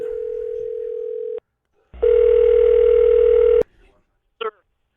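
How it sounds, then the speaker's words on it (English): A phone call rings out through a live-streamed broadcast: a steady loud tone, a pause, then a longer louder buzzing ring tone, followed by a brief burst of sound. "It's ringing."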